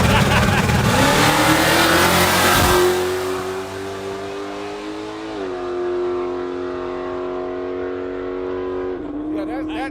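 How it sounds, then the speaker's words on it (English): A race car at a drag race roars loudly from start to finish, its engine droning at high revs with pitch shifts between gears. The sound fades only slightly toward the end. "that's Roddy's son driving on the motor"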